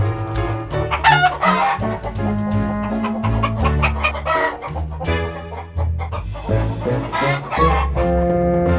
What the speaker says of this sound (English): And your chickens.